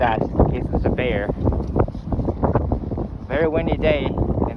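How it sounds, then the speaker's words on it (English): Strong wind buffets the microphone on the open Alaskan tundra at Utqiagvik, with steady gusty rumble throughout, while people talk over it. "Very windy day."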